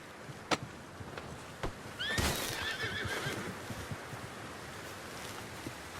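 A horse whinnies briefly at mid-distance over a hissy outdoor background in Red Dead Redemption 2 on PS4, with a few sharp clicks before it.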